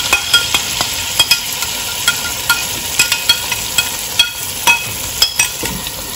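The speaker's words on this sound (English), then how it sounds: "I'm going to add all this masala to the butter." Blended masala sizzles loudly in hot butter while a utensil stirs it, scraping and clinking against the pan in an irregular rhythm of sharp taps over a constant fry.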